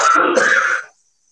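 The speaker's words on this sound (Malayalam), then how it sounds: "മുളകുപൊടിയും മല്ലിപ്പൊടിയും വറുക്കുമ്പോൾ ചുമയ്ക്കും." A person clears their throat once in a kitchen where chili and coriander powder are being roasted. The sound is close and rasping, lasts under a second and gives way to silence.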